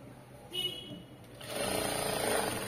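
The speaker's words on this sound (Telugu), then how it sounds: "ఇలా స్టిచ్ వేసిన తర్వాత ఇక్కడ కొంచెం ఎగస్ట్రా ఉన్న క్లాత్ ని కట్ చేసుకోండి" A sewing machine stitching fabric piping, its motor whirring steadily and growing louder as the stitching gets underway, heard close with a brief stop-start near the beginning.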